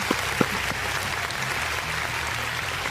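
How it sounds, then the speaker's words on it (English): Applause sound effect from an applause button, a short burst of clapping that holds steady for a few seconds at moderate volume, with no speech over it. "Give yourselves a big round of applause for hanging around."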